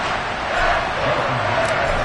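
Stadium crowd in the Madden 23 football video game, a broad continuous roar of cheering voices, loud and sustained throughout.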